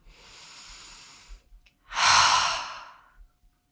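A person standing with both feet on the ground breathes in softly, pauses briefly, then lets out a louder, airy sigh-like exhale. The breaths are close to the microphone.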